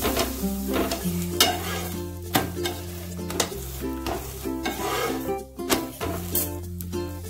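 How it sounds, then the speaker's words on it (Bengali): A spinach paratha fries in butter on a pan, sizzling steadily while a spatula scrapes and taps against the metal at regular intervals, close and even, with a constant low hum underneath and no talking. "এইভাবে বাটার দিয়ে ভাজবে"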